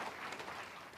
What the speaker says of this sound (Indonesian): Ya, saudara tepuk tangan senang dengar ini.